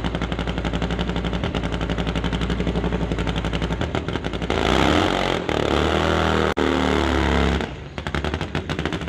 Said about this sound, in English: supercharged nitro-fueled drag bikes